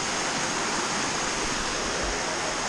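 Waterfall on a sunny coastal hiking trail near a swimming hole, heard from the top of the falls as a loud, steady, unbroken roar of rushing water.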